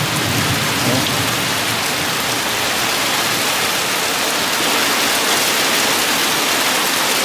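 Heavy thunderstorm rain pounding on a car at a junkyard, heard from inside the car as a loud, dense, unbroken roar of drops on the roof and glass, with no talk.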